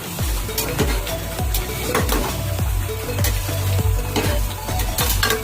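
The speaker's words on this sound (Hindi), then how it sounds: "चावल पक रहे हैं यहाँ पे" Singaporean rice simmers in a pan on low heat, giving a steady sizzle with repeated clinks and knocks of a utensil against the pan.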